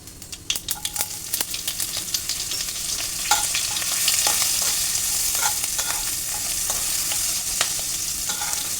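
Asafoetida and green chili sizzling in hot oil for wheat-flour dhirde: a steady, bright frying hiss with crisp crackles and spatters, plus occasional clicks of a spoon stirring.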